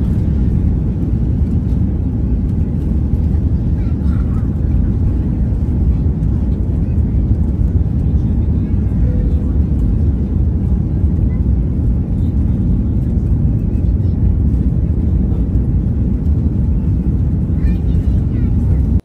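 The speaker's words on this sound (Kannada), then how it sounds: "ವೀಲ್ ಹೇಗೆ ಕ್ಲೋಸ್ ಆಗುತ್ತೆ, ಲಾಕ್ ಆಗುತ್ತೆ ಅನ್ನೋದೆಲ್ಲ ನೀವು ನೋಡ್ಬೋದು." A passenger jet heading from the USA to India climbs after takeoff, its engines giving a steady, heavy cabin roar that stays even for the whole stretch.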